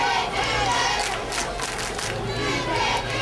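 Football fans in the Cold Crazies student section at a North Stanly vs. West Stanly high school game chant a cheer together. It is a loud, continuous crowd roar with shouted voices, lasting a few seconds.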